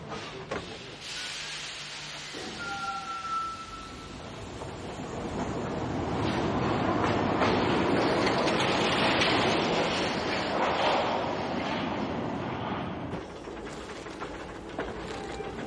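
A small two-coach passenger train rumbles past nearby, its clattering and hiss swelling to a peak and then fading, with a brief whistle-like tone early on.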